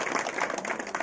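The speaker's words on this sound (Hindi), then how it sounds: "दौलतराम जी के लिए जबरदस्त ताली।" A quick burst of crowd applause at a village welcome ceremony for a sarpanch, dense and moderately loud throughout.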